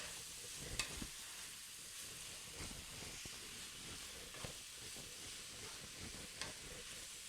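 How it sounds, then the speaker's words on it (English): Onions and peppers with taco seasoning frying in a pan, a soft continuous sizzle broken by occasional light stirring scrapes and clicks, fairly quiet and without talk. "you want to just stir that up real good with your onions and peppers"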